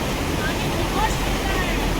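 Very cold, clear mountain river near Yamunotri rushing steadily as people wade across it, a dense, close, continuous roar of flowing water mixed with wind buffeting the microphone.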